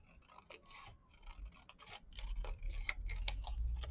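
Scissors snip through a recycled Christmas card close up, a rapid series of crisp rasping cuts and paper scrapes over a low rumble, with no one talking.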